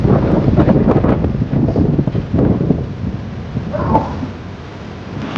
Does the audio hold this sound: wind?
yes